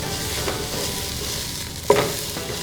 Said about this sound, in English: And I'm gonna saute the rice for about 30 seconds.